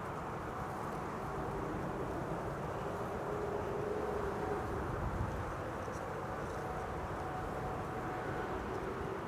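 A Lufthansa Airbus A320 taxiing across the runway at Schiphol, a steady distant jet engine roar and rumble that holds constant throughout, with no talk.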